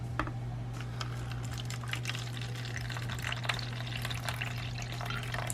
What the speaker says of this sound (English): Let's add a little bit of water into here first.